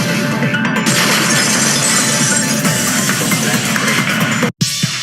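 A vase shatters in Danganronpa 2: Goodbye Despair, a loud, dense crash of breaking ceramic that sustains for several seconds before cutting off abruptly near the end.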